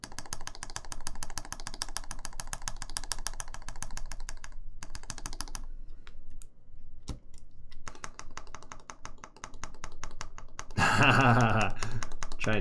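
Rapid, continuous typing on a Caustic Custom TGR 910SE mechanical keyboard, its stabilizers sounding rattly, with clacking keystrokes, brief pauses and a louder, busier burst of keys near the end.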